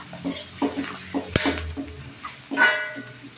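Seafood pancit noodles are stirred in a pan, with scraping and light clinks of a utensil against metal over a steady background hum and soft sizzle, close by and without talk.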